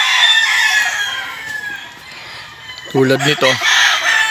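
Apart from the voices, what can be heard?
McLean gamefowl rooster crowing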